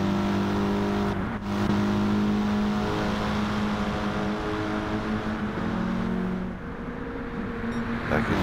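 Race car engines drone and rev steadily in Gran Turismo 7 during an hour-long Lancer endurance race, with cars passing close and pitch shifting as one overtakes.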